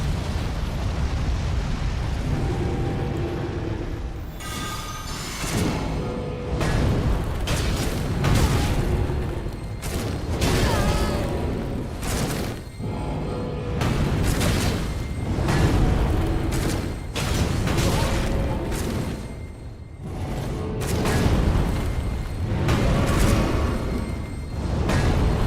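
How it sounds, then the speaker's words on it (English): Continuous heavy fire-attack explosions from Elden Ring with the Convergence Mod, loud roaring blasts and crackling bursts overlapping in a dense, relentless barrage with brief dips between waves. "Here comes the fire."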